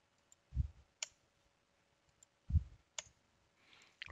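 Two close, faint computer mouse clicks at about one and three seconds, each a crisp tick in a quiet room, while saving a setting in the SCCM client cache configuration.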